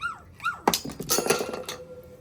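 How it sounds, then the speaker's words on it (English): Puppies whimper and yip in the background during a build, starting with two rising-and-falling whines followed by a burst of clatter and rustling, then a thin sustained whine, no talking. "Puppies in the background."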